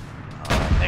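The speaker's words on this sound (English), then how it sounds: "Do we know where that plasma fire is incoming from?" A burst of plasma weapon fire from a Warhammer 40k mod in the ARMA 3 war game. A quiet lead-in gives way to a single sharp, loud blast with a booming low tail.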